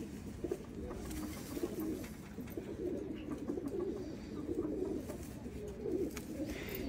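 Pigeons in a loft give soft, repeated throaty coos in an overlapping rhythm, fairly faint and steady, with no talk over them.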